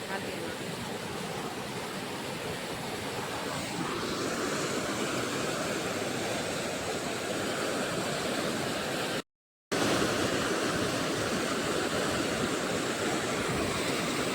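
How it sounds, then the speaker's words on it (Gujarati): A river runs past in a continuous broad rushing roar, loud and close, holding steady throughout apart from one brief cut, with no voices over it. "જો નદીનું પાણી કેવું જાય છે જોઈ લો"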